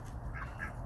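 Ducks being herded to bed in the evening give two short, nasal quacks in quick succession, fairly faint against a low rumbling background.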